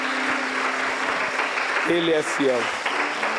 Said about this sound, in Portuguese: eu quero que você aplauda Jesus neste momento